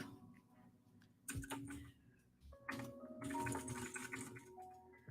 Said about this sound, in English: Sorry if you can hear my mechanical keyboard.